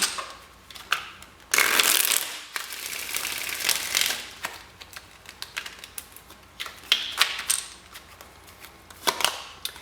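Tarot cards being shuffled close up during a pick-a-card reading, with a dense riffling burst early on followed by scattered sharp snaps and soft slides of the deck, no voices.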